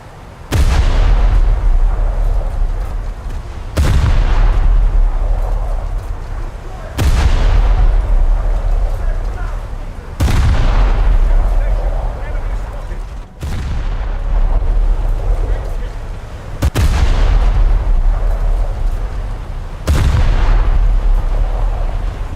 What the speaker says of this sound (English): These 4-inch guns might just be packing enough punch for the enemy Moffats.